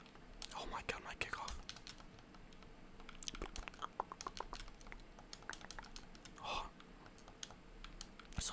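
Close, rapid clicking of game controller buttons during a Rocket League tournament match, irregular taps and clacks in quick bursts, with occasional soft mouth sounds and faint whispering underneath.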